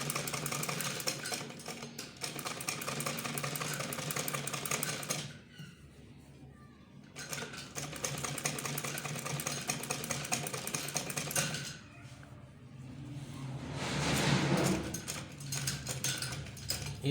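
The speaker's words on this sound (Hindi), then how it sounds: "इस तरह से मशीन को सुई को नीचे करके गुलाई में आपने हाथ से मशीन चलानी है, ऐसे आराम आराम से।" Sewing machine turned by hand while stitching a curved seam on a ladies' kameez, a close, steady whirring rattle that stops for two short pauses and then carries on.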